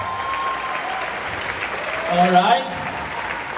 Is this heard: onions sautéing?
no